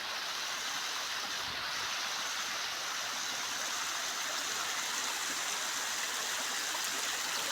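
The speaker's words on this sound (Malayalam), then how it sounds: "ഒരു വെള്ളം ചാടുന്ന സ്ഥലമുണ്ട്." A stream spills over rocks at a small rocky waterfall in the outdoors, a steady, full rushing and splashing of water, close and even throughout with no voices.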